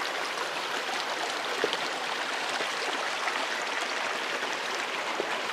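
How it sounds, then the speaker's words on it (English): Clear river water flows steadily at a trail crossing on the Pacific Crest Trail, a constant broadband rush and babble, close and unchanging, with no voices. "I think this is the first official river crossing"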